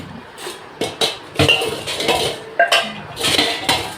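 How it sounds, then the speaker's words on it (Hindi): Metal household utensils and pots clank and clink as they are lifted out and handled, a series of irregular close metallic knocks and rattles with no talking, during festival house cleaning. "बस मैं सारे के सारे जितना भी बर्तन है नहीं सारे पहले तो बाहर निकालूंगी, फिर अच्छी तरीके से इनको साफ़ करूँगी।"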